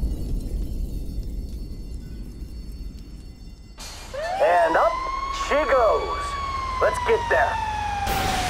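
A hijacked firetruck's emergency siren wails in Grand Theft Auto V, starting partway through with a loud, rising-and-falling electronic tone over steady vehicle rumble, while voices speak over it.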